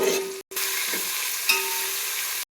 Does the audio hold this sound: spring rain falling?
no